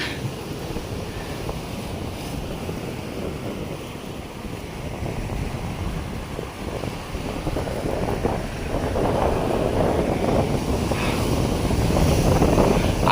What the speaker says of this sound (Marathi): आता ह्या टायमिंगला हवा खूप असते